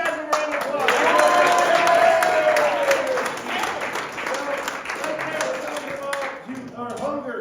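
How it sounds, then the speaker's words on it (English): A crowd at a workplace gathering breaks into sustained applause and clapping, loud at first then easing, with people talking and cheering over it. "let's give these guys a round of applause."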